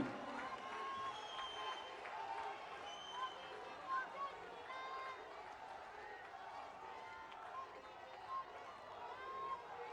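Large crowd applauding at a public event in Una for Prime Minister Narendra Modi, a dense continuous roar of clapping and cheering at a distance, with a voice heard over it.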